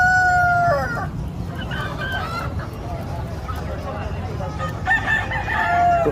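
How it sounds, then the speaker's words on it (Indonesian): Village chickens crow and cluck at a busy outdoor market on Simeulue Island, Aceh, with a rooster's crow at the start and again near the end, close and loud over crowd noise and murmured voices. "ayam kampung."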